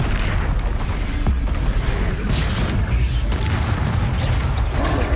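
Confringo fire spell explosions in the Hogwarts Legacy video game, a dense run of booming blasts and crackling bursts packed one after another over continuous loud combat noise.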